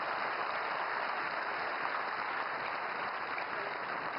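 Audience applause at the Emerging Science, Technology & Innovation Conclave 2025, a steady, dense wash of clapping from a large crowd, even in level and heard alone without speech.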